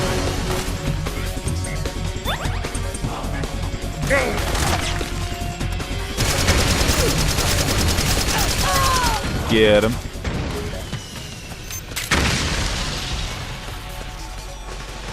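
Explosions and gunfire in the Metal Gear Solid 4 video game, a dense continuous battle din with bursts and crashes throughout, loud and busy, with a character's voice shouting briefly.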